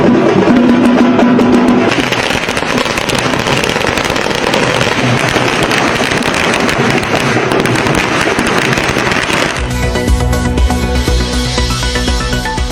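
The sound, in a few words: firecrackers bursting in celebration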